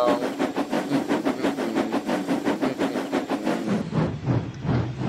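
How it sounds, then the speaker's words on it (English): Thomas the Tank Engine rolling along in a Roblox train game, a steady rhythmic chuffing and rail clatter with hissing steam, fairly close and continuous, easing slightly near the end. "It's Thomas the Tank Engine rolling along."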